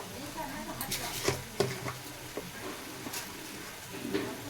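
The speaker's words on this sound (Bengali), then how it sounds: "ভালো করে ভেজে নেব। ভালো করে মশলাটা কষিয়ে নেব।" Spice paste fries and gets stirred in a pan, a soft continuous sizzle broken by scattered clinks and scrapes of the spoon against the metal, close by.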